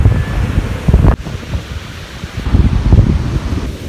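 Ocean surf washes onto a beach under gusty wind buffeting the microphone, a close, rough roar with short bursts and one sharp knock.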